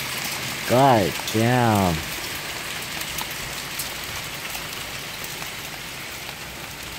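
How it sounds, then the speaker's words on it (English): Hail from a thunderstorm pelts a house in a steady, dense hiss of impacts, while someone speaks loudly and briefly near the start. "hailstones are even getting in. Having it right over the house."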